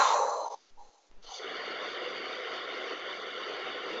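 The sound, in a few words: exhaling while shrugging the shoulders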